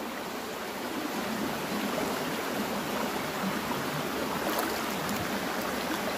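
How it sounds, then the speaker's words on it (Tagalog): Stream flowing through a forest in the Philippines, a loud continuous rushing and babbling of water close by, steady throughout with no voices. "Sapa lang to boy, sapa."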